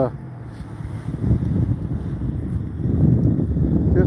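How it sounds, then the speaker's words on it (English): Strong wind buffets the microphone outdoors on a breezy, cold day during a bike ride, a continuous low rumbling roar that swells louder toward the end. "the wind is blowing pretty good"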